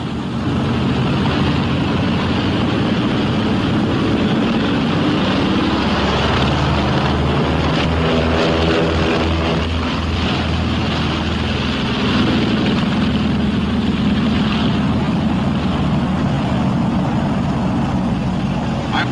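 Twin piston engines of a B-26 Marauder bomber roar steadily during takeoff, a loud continuous drone with a rough throbbing texture that holds for the whole stretch, with no voices over it.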